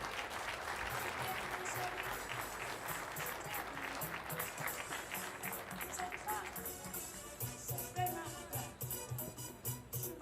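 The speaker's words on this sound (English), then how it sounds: "Please give a big round of applause for Rita Kavase." An audience at an Isuzu 50th anniversary celebration claps for an honoree, a sustained round of applause that swells in denser bursts toward the end, with speech mixed in.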